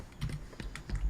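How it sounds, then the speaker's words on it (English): Rapid keystrokes on a computer keyboard rattle close and clear in an irregular burst of clicks lasting about a second, with no voices over them. "It's going to be half an hour me typing commands."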